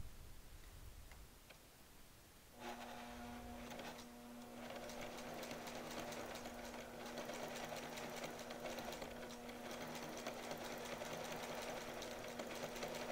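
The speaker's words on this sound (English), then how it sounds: "Okay, let's start our seam." A sewing machine stitches a pillow seam, starting after a moment of quiet into a steady, close, rapid mechanical whir and ticking that runs on evenly.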